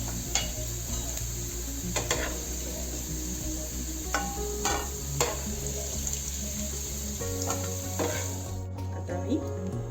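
Cauliflower frying in oil in a pan, a continuous sizzle with occasional clinks and scrapes of a stirring utensil, while a steady electrical hum underlies it and stops near the end.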